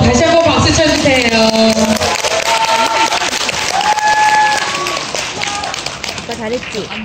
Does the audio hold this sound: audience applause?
yes